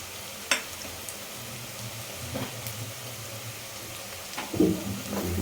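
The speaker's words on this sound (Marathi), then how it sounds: "आता थोडं थोडं करत ढवळत राहायचं" Crab curry masala frying and being stirred in a pan, a soft steady sizzle broken by a few scraping, clattering stirs.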